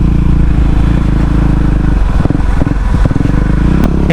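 Motorcycles, including a Yamaha Sniper and a new Yamaha NMAX, ride a steep mountain road, a loud close engine drone with steady low hum and some clattering toward the end.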